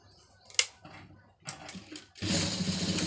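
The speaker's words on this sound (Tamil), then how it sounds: "இப்போ ஒரே மாதிரி வந்து தையல் ஓட்டிட்டோம்" Sewing machine stitching a kokki patti and V patti on fabric lining: a few short clicks and taps, then a brief run of fast, even mechanical stitching, close by.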